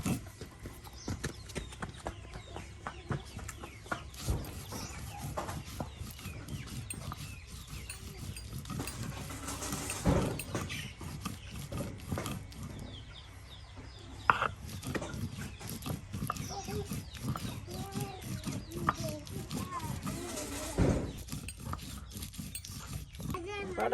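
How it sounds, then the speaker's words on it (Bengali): Lentils ground by hand on a stone slab (pata), a steady run of close, rhythmic scraping and knocking strokes that continues throughout, with voices now and then in the background. "এই যে ডালগুলো এখন পাটায় ফেসে নেওয়া হচ্ছে।"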